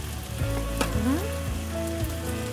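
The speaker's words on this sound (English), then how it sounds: "So the garlic has turned a little brownish." Garlic for Georgian shkmeruli sizzles and crackles steadily in a hot pan, turning brownish, a constant close frying hiss with faint clinks in the background.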